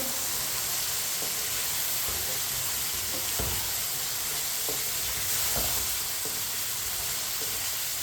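Diced carrots and potatoes being stirred in a pot of frying pulao, with a steady loud sizzle and occasional scraping stir sounds, no talking.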